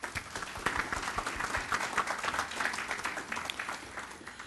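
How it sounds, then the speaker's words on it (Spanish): Audience at an internet governance forum in Peru applauds a panel, a lively spread of many hands clapping with distinct individual claps, steady and moderately close throughout, with no talk over it. "Un aplauso para ellos."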